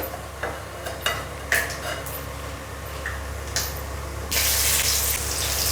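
Sliced onions fry in hot oil in a pan with a soft steady sizzle, punctuated by scraping stirs, before a louder burst of hissing near the end.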